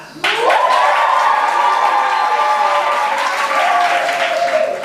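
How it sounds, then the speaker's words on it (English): Theatre audience applause voting for Helena Landis at a performance of The Mystery of Edwin Drood, a loud sudden burst of dense clapping from a full house, sustained evenly for several seconds with cheering voices over it. "be indicated by your applause once again"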